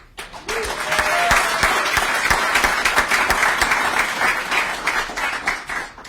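Applause from an audience at a mayoral groundbreaking ceremony for a housing and arts project, a dense, steady clapping that swells quickly and holds for several seconds before tapering, with faint voices mixed in.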